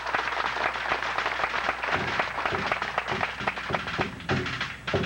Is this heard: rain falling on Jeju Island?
no